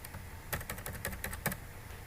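Quick, quiet keystrokes on a computer keyboard while a multiple-choice question is entered into an online form, a short irregular burst of clicks at close range.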